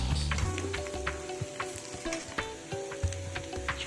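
Potato dry fry is stirred in a pan after lentil powder is sprinkled over it, with a close sizzling hiss, scraping spatula strokes and a few clinks, and a low steady hum underneath.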